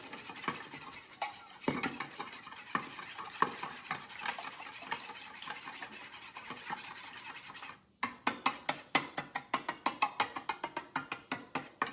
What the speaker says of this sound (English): we want to mix this until the borax is all dissolved